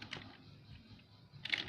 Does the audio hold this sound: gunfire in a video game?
no